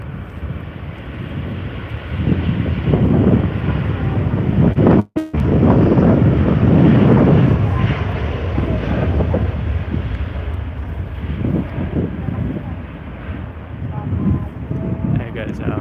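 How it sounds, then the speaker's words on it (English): Emirates Airbus A380-800 taking off for Dubai at night, a long deep engine rumble swelling and rolling on under heavy wind noise on the microphone, with a brief dropout partway through. "There goes our A380-800 off to Dubai tonight with Emirates."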